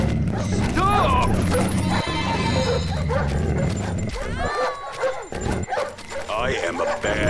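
Cartoon dogs from the Up video game bark and yip in quick bursts amid busy game music and effects, with whimpers and characters talking throughout.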